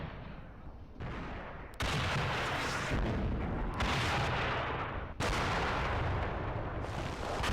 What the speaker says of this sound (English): We've got our own artillery going right there as well. .88s are opening up.